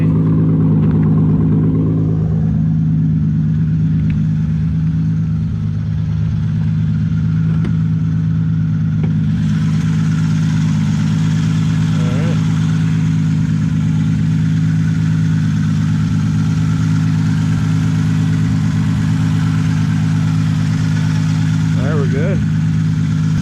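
A straight-piped Toyota Supra drones steadily at an even cruising speed, its low exhaust note loud and unbroken throughout with no change in revs, joined by faint road and wind noise.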